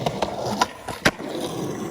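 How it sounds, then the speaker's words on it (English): Skateboard ollie at an old middle school, sounding as a series of sharp wooden pops and clacks with the loudest snap near the end, over rolling wheel rumble, close and clear with no talking. "Let me just ollie that."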